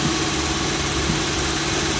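A car engine idles steadily at close range with electric cooling fans running, a dense, constant mechanical drone and hum throughout, no speech.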